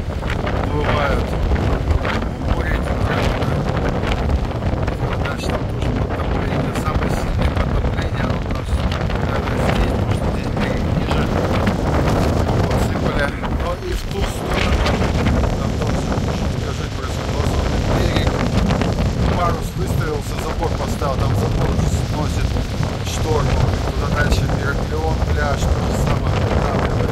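Strong, steady storm wind roars and buffets the microphone at a Black Sea beach in Anapa, with a broad rushing noise and faint water sounds underneath for the whole stretch.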